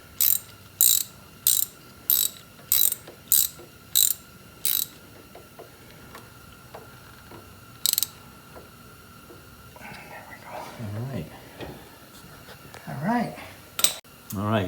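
Ratchet driving a bolt with crush washers into a Jeep LJ brake caliper, seven quick sharp clicks in a regular rhythm, then a single click, followed by scraping and rustling handling noises, close and clear.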